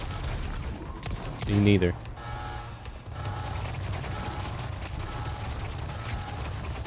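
Automated turret gunfire in the Resident Evil 4 remake (Separate Ways) rattles out as one loud, dense burst of shots over a steady game drone, with a brief spoken line from a player afterward.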